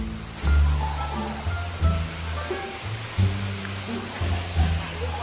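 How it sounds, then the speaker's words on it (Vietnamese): Water from a mountain stream rushes steadily downhill near a campsite, a broad continuous wash with periodic low thumps and surges; faint voices sit in the background. "Suối đầu từ trên đó chảy xuống các kiểu."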